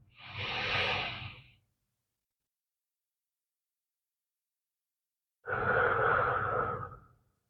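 Two long, deep breaths during a guided breathing exercise, a slow airy inhale-exhale close to the microphone, then a long silence before a second full breath.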